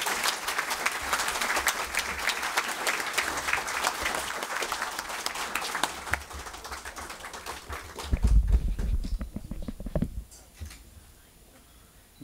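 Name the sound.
audience applause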